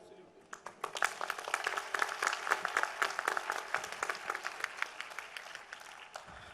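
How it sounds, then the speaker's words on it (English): Applause for a young student at an ethnopharmacology lecture, a short burst of individual claps that swells into scattered clapping and then thins toward the end, heard close by. "I want to give an applause to the young student."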